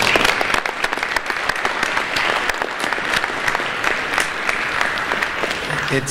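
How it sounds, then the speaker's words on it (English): Sustained, loud applause from an audience at a city machine shop funding announcement, dense steady clapping filling the whole stretch without a break. "So, round of applause for you guys."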